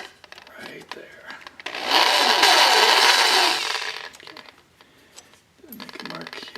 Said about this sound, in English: I just need to drill in here.